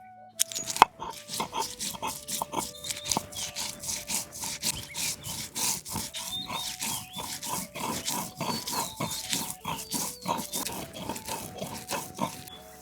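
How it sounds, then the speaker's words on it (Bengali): Mustard seeds with green chillies and a little turmeric ground by hand on a grinding stone, giving a steady, loud rhythm of rough back-and-forth grinding strokes, close up and without talk. "পেয়ারা মাখায় দেওয়ার জন্য অল্প সর্ষে বেটে নেব"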